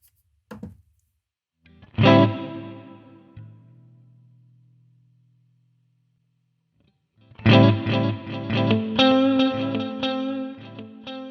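Electric guitar through a Mooer GE150 processor with dual delay: a single plucked note rings and repeats as it fades, then a chordal phrase with echoing repeats stacking up, no voices.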